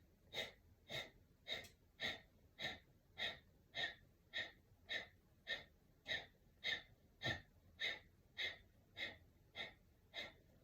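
Deep, steady breathing during a yoga breathwork practice in a vinyasa session, about sixteen rhythmic breaths in just over ten seconds, each one close and audible with a breathy, slightly wheezy rush of air and no talking.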